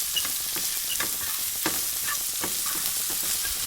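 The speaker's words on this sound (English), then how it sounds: "Into this goes 1 sliced red onion. Just saute this." One sliced red onion sautéing in a pan, a dense continuous sizzle with frequent crackles and light stirring clicks, close up and steady throughout.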